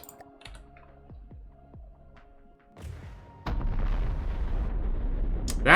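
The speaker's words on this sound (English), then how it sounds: "That was the best cram cannon ever fired." A heavy cram cannon firing in the naval combat game From the Depths: a few sharp mechanical clicks and thuds, then a deep booming blast that gives way to a loud, sustained rumbling roar.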